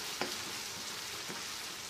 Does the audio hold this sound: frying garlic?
yes